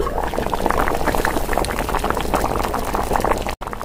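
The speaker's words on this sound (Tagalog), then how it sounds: "Tapos nilagyan ko ito ng tubig at pakukuluan." Water with tomatoes simmering in a cooking pot, a steady dense bubbling boil that fills the whole stretch evenly, close and fairly loud, with no voices.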